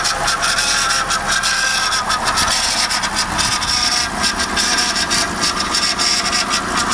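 A 2005 Acura TL Type S with its 3.5L engine idles steadily while warming up, a loud, even, continuous hum with a constant rough texture and no revving, heard close.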